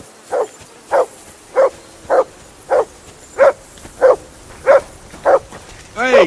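A dog in Kingdom Come: Deliverance 2 barks ten times in an even, evenly spaced rhythm, each bark clear and fairly close, followed by a brief whine at the end.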